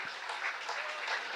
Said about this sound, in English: That brings up the added applause